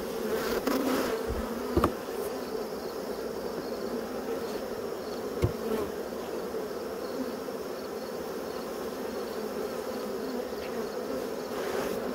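Honeybees buzz steadily at an open hive during an inspection, a dense, continuous drone close by with a few brief knocks and thumps, no voices.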